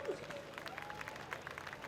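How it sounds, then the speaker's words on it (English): Crowd applause at a sprintcar A-Main race at Archerfield Speedway, a fairly faint, steady patter of clapping with crowd noise running through the whole short stretch. "Big round of applause for Brett Kratzman"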